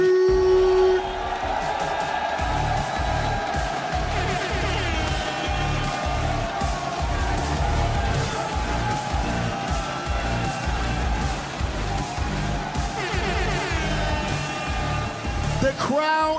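Crowd cheering and whooping in the arena at the Red Bull Kumite 2024 fighting game finals, a loud, sustained roar with rising shouts, with an announcer's voice over it.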